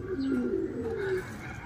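A red bar racing pigeon arriving home from a 114 km summer training race coos close by, a couple of low warbling coos over faint background noise.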